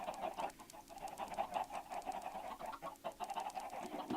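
Minecraft chickens cluck in a stacked chicken factory farm, a dense, continuous chorus of short, overlapping clucks and squawks at moderate volume with no talking.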